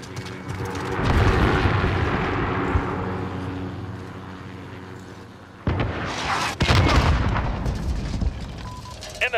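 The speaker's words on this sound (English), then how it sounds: "Throwing grenade!" A thrown grenade goes off in a military shooter video game, a loud booming blast with rumbling debris amid ongoing gunfire and a second sharp crack, over continuous battle noise.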